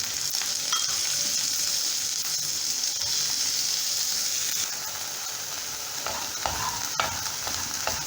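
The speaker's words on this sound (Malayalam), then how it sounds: "ചൂടായ ബട്ടറിലേക്ക് നമുക്ക് ഉള്ളി ഇട്ട് കൊടുക്കാം." Sliced onion drops into hot melted butter in a pan while making soup, giving a steady, close sizzle and frying hiss with occasional stirring scrapes, no voices.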